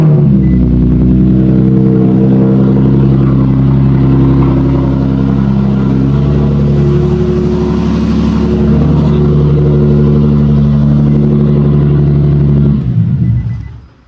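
A Nissan 370Z engine fitted with a newly installed Setrab oil cooler runs loud and close, a steady rumbling idle with a slight rev midway, then cuts off at the end; no one talks.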